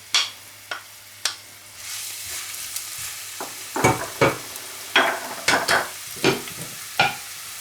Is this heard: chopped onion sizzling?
yes